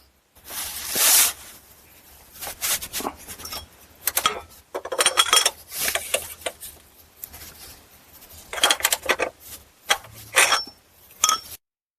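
A 15 mm oil drain plug is worked loose under a 2024 Chevy Silverado 2500HD with the L5P 6.6 Duramax V8 diesel. It gives off scattered sharp metallic clinks and ratcheting taps in uneven bursts, close by, between quiet pauses.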